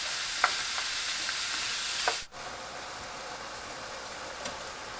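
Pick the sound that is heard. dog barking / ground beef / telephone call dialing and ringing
ground beef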